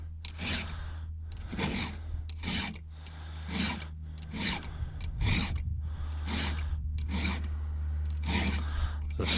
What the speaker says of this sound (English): It's a steel file on a Husqvarna chain.